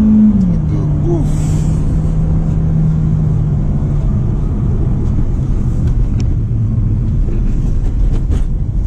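A Citroën DS5 four-cylinder turbo with an automatic gearbox drones loudly and steadily while driving, its engine tone sliding lower as a gear changes early on, with road rumble underneath.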